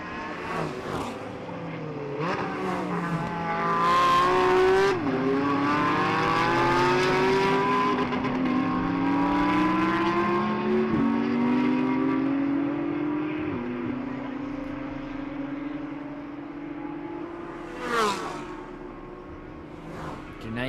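Historic race cars at the Jarama Classic circuit drone past, their engine notes falling as they slow on track. The tone is loud and sustained, with a sharp burst near the end.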